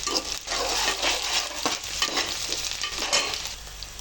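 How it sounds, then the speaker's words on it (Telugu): Potatoes and green chillies frying in a pan, a continuous close sizzle with steady stirring scrapes throughout and no voices. "ఇలా బాగా వేయించుకోవాలి"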